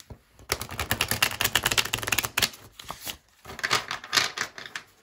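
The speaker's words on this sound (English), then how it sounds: "My ring got in the way of the riffle." Tarot cards are riffle shuffled close up, a quick rapid flutter of flicking edges, then a pause and a second shorter riffle caught by a ring.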